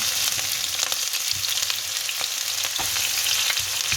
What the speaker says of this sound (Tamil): இப்போ வந்து கடுகையும் பெருஞ்சீரத்தையும் போடுவான் இது போட்டு வர வெங்காயத்தை போடுவேன்